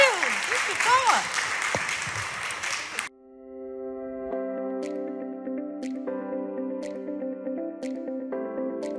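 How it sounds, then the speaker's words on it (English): Brief audience applause and clapping at a talk on storytelling and technology fades out after a few seconds, followed by a short electronic jingle of tones. "I think she deserves a round of applause"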